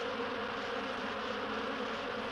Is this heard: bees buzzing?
yes